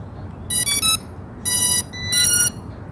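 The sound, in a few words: KAI TWO PRO drone beeps when turned on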